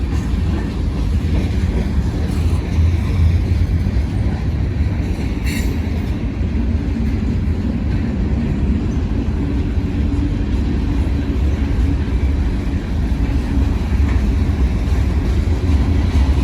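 A freight train of boxcars rolls steadily past close by, loud continuous rumble and clatter of wheels on rails with faint squeal, no voices.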